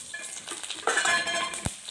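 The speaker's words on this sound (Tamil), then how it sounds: "எண்ணெய் சூடாகிடுச்சு. தாளிக்க வேண்டிய ஐட்டம் எல்லாம் போட்டுக்கலாம்." A sudden hiss of tempering spices sizzling in hot oil starts partway through and crackles on steadily, with a clink of a utensil near the end.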